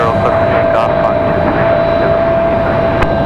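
An Endeavor airliner takes off from runway 23 left at Raleigh-Durham International, producing a loud, steady broadband jet roar with a constant hum beneath it. Faint radio chatter sits under the noise.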